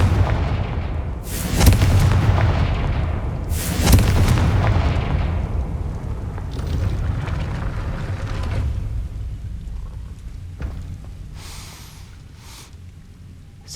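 Two booming Confringo spell blasts go off about two seconds apart in the video game Hogwarts Legacy, loud and explosive. Each blast trails into a long, rumbling decay that fades over the next several seconds.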